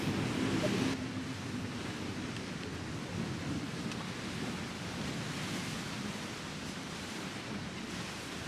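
Waves wash steadily at a beach beside a pier and a river mouth. The surf makes an even, hissing roar that runs the whole time, with wind noise on the microphone.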